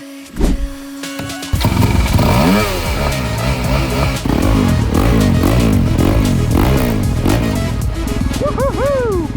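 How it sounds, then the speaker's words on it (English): A Honda CRF 250RX dirt bike rides backyard trails, its engine loud and close, revving up and down in repeated surges. A brief start-up comes first, and a faint second bike is heard near the end. "we're gonna see how this CRF 250 RX handles the backyard trails"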